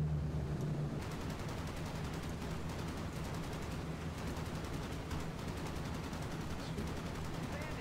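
Rapid machine-gun fire from a B-17 Flying Fortress bomber in The Mighty 8th Redux flight game: dense, continuous bursts rattling loudly for the whole stretch, with battle noise layered underneath.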